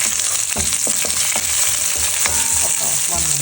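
Chana dal, urad dal, mustard seeds, cumin, chillies and curry leaves sizzle and crackle in hot oil while being stirred, with steady frying hiss and scattered pops, close and fairly loud.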